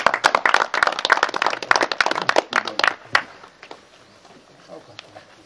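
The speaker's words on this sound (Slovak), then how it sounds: "Ešte raz zatleskáme" Outdoor crowd clapping at a shooting competition awards ceremony, a brisk run of sharp, fairly close handclaps for about three seconds that thins to a few scattered claps and quiet.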